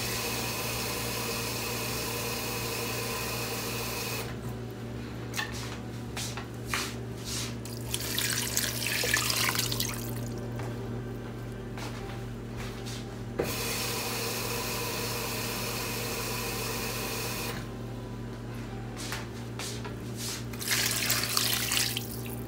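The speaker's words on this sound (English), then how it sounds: "I'm going to go ahead and I'm going to add 6 cups of water." Water splashes into a cooking pot in several pours for homemade stock, each run a few seconds long with quieter stretches between them.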